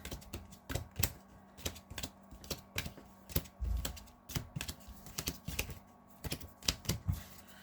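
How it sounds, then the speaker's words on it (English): Magic: The Gathering land cards are shuffled by hand in a run of quick, sharp, close riffles and taps that repeat in an uneven rhythm, with no talking. "Now let's shuffle these lands even more."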